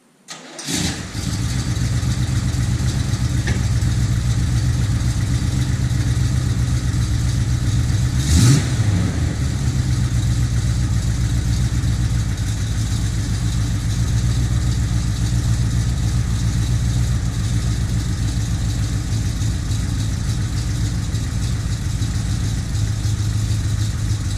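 A 1979 Chevrolet Corvette C3 engine cranks and catches within the first second, then settles into a steady, loud idle that runs evenly to the end, with a brief rev partway through.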